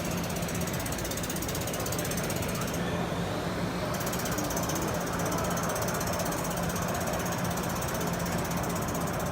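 A pulse welder running in high pulse mode at a trade show fabrication demonstration gives off a dense, continuous rapid buzzing crackle, steady and unbroken throughout against busy hall noise.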